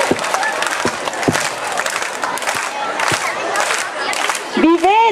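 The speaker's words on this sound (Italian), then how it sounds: "Pubblico, sulle mani, sulle mani. Adesso muovete, applaudite." An audience at a children's entertainment show claps along in time, sharp regular claps cutting through a loud, continuous crowd murmur, with a brief rising voice-like sound near the end.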